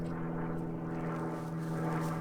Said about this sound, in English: Those planes are so loud.